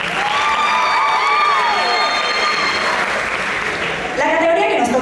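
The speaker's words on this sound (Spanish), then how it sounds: "Nuevamente, un fuerte aplauso," Loud sustained applause and cheering from an audience at the Premios Victoria awards ceremony, dense clapping with shouts and whistles running throughout, a voice rising briefly near the end.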